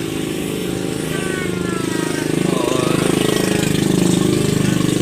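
A parked motorbike at a town square runs steadily at idle, a close, even engine rumble that swells slightly toward the end, with brief speech over it.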